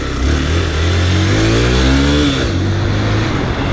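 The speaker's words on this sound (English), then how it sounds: "The acceleration is really superb in this bike." A Hero XPulse 200T 200cc motorcycle accelerates hard, its engine note rising steadily in pitch as it revs up close and loud, then settling into a sustained drone with wind noise.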